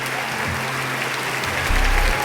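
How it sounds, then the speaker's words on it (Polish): A quiz show studio audience gives a contestant named Michał a steady, full round of applause, dense and continuous, with a low thump near the end. "proszę o duże brawa dla Michała"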